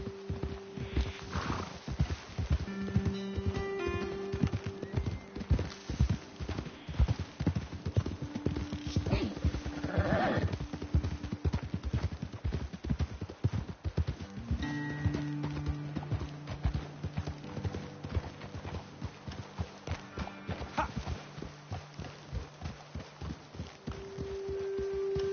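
Horse hooves clip-clopping steadily in the video game Red Dead Redemption 2, a close, rhythmic plodding over the whole stretch, with a brief whinny and game music and voices in the background.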